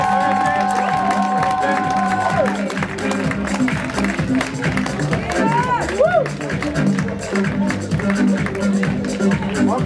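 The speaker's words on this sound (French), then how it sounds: "Il va vous accompagner sous un tonnerre d'applaudissements, messieurs" An audience at a European bodybuilding championship applauds and cheers in a large hall, sustained clapping and crowd noise with an announcer's voice and some music over it.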